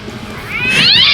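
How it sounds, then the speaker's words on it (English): A cat gives a single drawn-out meow that rises in pitch and swells toward the end, close and clear with no other sounds around it. "Meows sound good"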